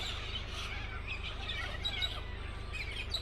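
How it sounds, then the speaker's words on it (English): Parrots calling in Australia near a roadside parking spot, with a dense, steady mix of chirps and squawks at moderate distance, layered over a constant low rumble. "Parrots are everywhere."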